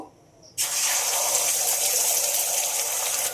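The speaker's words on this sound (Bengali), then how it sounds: "তেলটা গরম হয়ে গেছে, এবার ফাটিয়ে রাখা ডিমটা দিয়ে দেব।" Beaten egg hits hot mustard oil in a wok and bursts into a sudden loud, hissing sizzle that stays strong and steady after a quiet start.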